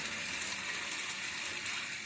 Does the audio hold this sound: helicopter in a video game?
no